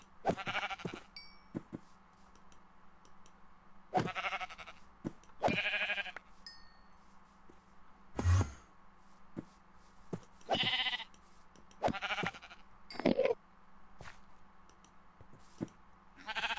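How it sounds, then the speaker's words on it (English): Sheep bleat in the video game Minecraft: a run of short, nasal bleats sounding again and again at irregular intervals over a faint, steady background hum, with no talking. "Let's kill some of these sheep."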